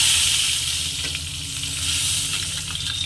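Fish head sizzling and frying in hot oil in a pan for muri ghonto, a steady close crackling hiss that runs continuously without talk.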